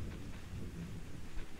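Video game thunderstorm, a steady wash of rain with a low rolling rumble of thunder underneath, continuous and fairly loud, with no speech.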